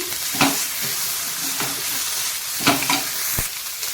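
Bajji mixture with pounded chillies frying in a pan, a dense continuous sizzle with periodic stirring scrapes, close and fairly loud, no talk.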